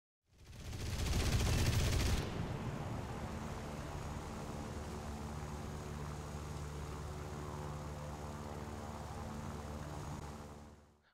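In the War Thunder air-combat game, a fighter's guns rip out a loud, rapid two-second burst into a bomber's forward fuselage, then give way to a steady propeller-engine drone that carries on alone.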